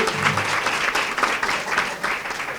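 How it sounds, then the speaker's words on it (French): Audience applause at a school ceremony inaugurating a primary school's new boundary wall in Obock, a steady wash of clapping hands filling the whole moment at moderate loudness. "en la personne de M. Mohamed Ahmed Ismail, que je voudrais que vous applaudissiez"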